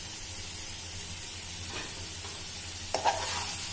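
Green chillies, tamarind and curry leaves frying in a pan give a low, steady sizzle, with a brief louder burst near the end as something is stirred or added; no one speaks.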